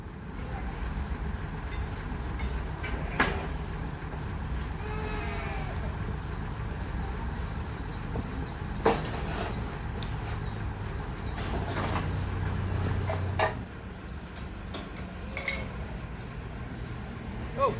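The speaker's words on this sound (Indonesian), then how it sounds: "Lokomotif akan mulai menarik." Sugarcane field railway locomotive beginning to pull a train hooked up by steel cable, a steady low rumble with scattered metallic clanks and squeals, plus distant animal bleats in the background.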